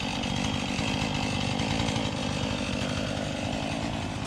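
A chainsaw runs steadily and loudly, its engine roaring continuously as it cuts through an oak tree, with no voices over it.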